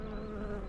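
Bees buzz around their hives in a steady, faint drone that hums for a brief moment with no voices.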